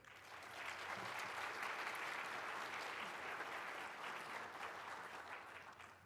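Lecture audience applauding steadily as a speaker is welcomed onstage at a Canova talk, a sustained even wash of clapping that swells early, holds, and tapers off at the end.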